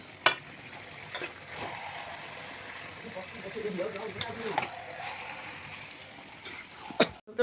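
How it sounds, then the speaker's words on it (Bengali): Meat cooking in spices in a pan, kosha style: a low steady sizzle with a few sharp clinks of a utensil, heard under a man's speech. "মাংস কষা চলছে তো বর্তমান মাংস ঢেলে দিয়েছে বাবা"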